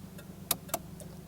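Turn signal relay of a 1987 Cadillac Sedan deVille four-door ticking, two sharp, quiet clicks about a quarter second apart over a low background hum, with no talking.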